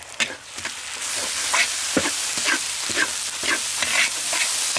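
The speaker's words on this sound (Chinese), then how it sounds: "再来点油，我们下入姜蒜，一点豆瓣，再下入辣椒" Ginger, garlic, chili bean paste and chilies stir-fry in hot oil, crackling loudly in bursts as the spatula scrapes and tosses the wok, no voices heard.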